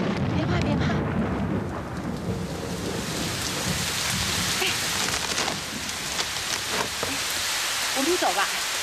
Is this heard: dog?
no